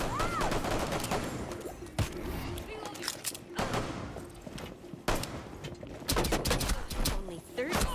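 Video game gunfire crackles in rapid bursts and single sharp shots, close and loud, with a person talking over the shooting.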